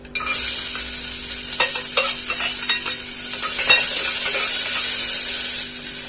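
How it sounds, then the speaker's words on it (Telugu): Onions frying in hot oil for a bottle gourd curry, a loud, bright steady sizzle with scattered scraping and clinking from a stirring utensil in the pan. "ఆయిల్ వేడెక్కాక కొద్దిగా ఉల్లిపాయలు వేసుకొని ఫ్రై చేసుకుందాం."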